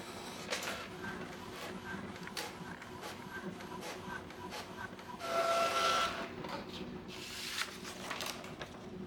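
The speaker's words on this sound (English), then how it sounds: "Press this I button to print and check whether the network has been successfully reset." An Epson L8050 printer runs steadily while printing a network status sheet. A continuous mechanical whir and hiss rises briefly midway with a short whine, heard close and at moderate level.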